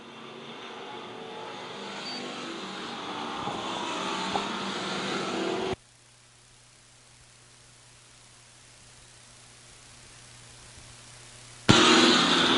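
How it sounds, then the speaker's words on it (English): Pure stock race cars run a main event on the Lakeside dirt track, a loud continuous roar of engines that cuts out abruptly for several seconds and then bursts back in. "Dave Nickel using that high line, trying to get around the fourth place car of Austin O'Neill"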